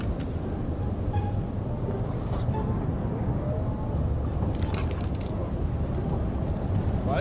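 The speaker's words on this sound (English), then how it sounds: "Why is there so much wind?" Strong, steady wind roars in Arma 3, a dense, unbroken rush of noise filling the scene at high volume with no talk over it.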